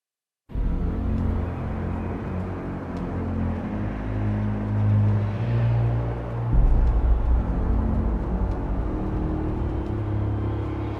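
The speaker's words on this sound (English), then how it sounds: "We see Batman driving Joker to Arkham Asylum." Steady low engine rumble of a car being driven in the Batman Arkham Asylum video game, continuous and loud throughout with a slight swell midway, no voices.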